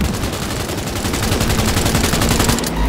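Continuous rapid gunfire during a car chase in Cyberpunk 2077 on PC, loud and close with an unbroken rattle of shots that barely eases near the end, and no voices.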